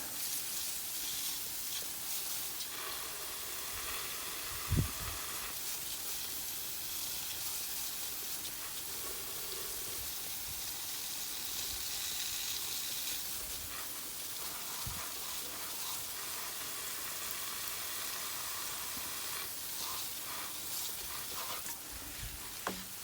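Water pours and sprays over potted plants outdoors, making a long, steady soft hiss for over twenty seconds, broken by a couple of light thumps from the pots or can.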